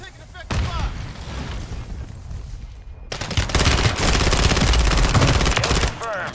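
Dense, loud machine-gun bursts and rapid gunfire in a Call of Duty match, continuous and close, with a brief drop before the shooting swells heavier and sustained toward the end, alongside game radio voices.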